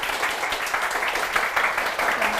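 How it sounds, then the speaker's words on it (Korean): A lecture-show audience gives loud, steady applause to welcome speaker Jeong Chan-woo onto the stage, a dense rolling clatter of many hands that carries on without pause. "큰 박수 부탁드릴게요."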